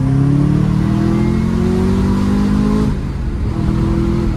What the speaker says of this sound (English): Listen to the downshifts, man.